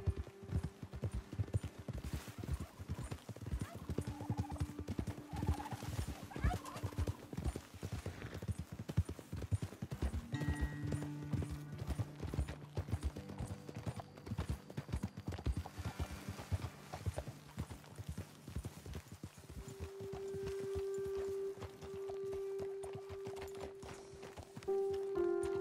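Steady horse hooves clip-clop at a walking pace for a long stretch in a video game, with occasional tonal ambience and a brief neigh, while someone talks over the sound.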